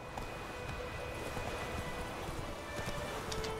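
Roach the horse galloping in The Witcher III, a steady run of hoofbeats under constant rushing wind and ambient game noise, with no voices over it.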